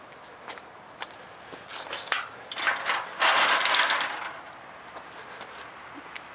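An aluminum 12 ft driveway swing gate moving on its hinges with a booster wheel, giving a few soft clicks and a brief rattling, rolling scrape of moderate loudness, with no voices.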